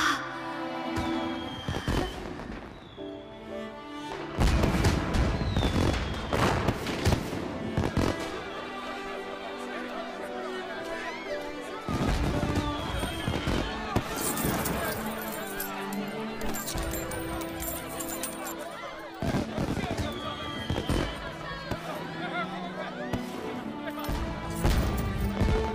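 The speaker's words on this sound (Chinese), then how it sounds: "第一次觉得这烟花这么好看" Fireworks burst repeatedly in a festive drama scene, loud booming cracks recurring every few seconds over a bed of music, with voices talking in between.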